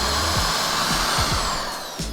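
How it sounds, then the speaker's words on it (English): A power drill whines loudly and continuously while boring small holes into a wooden speargun near the harpoon guide, a close, steady drone with slight pitch shifts. "Drill two small holes next to the harpoon guide."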